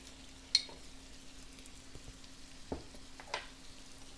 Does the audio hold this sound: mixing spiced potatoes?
yes